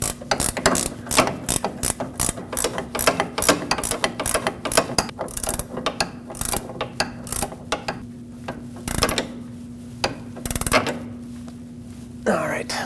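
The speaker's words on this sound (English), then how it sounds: "With that mounting nut installed, let's tighten it up." Ratchet tightening an 18mm mounting nut on a new sway bar link of a 2006-2015 Lexus IS250, a rapid run of clicking strokes with short pauses, close and loud, under a steady background hum.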